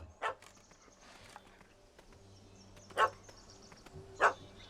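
In The Witcher 3: Hearts of Stone, a dog gives three separate barks spaced over several seconds, moderately loud over a quiet game ambience with faint footstep-like taps.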